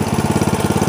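A Snapper riding lawn mower's small engine runs steadily at a fast, even chugging pulse, loud and close, with no talking.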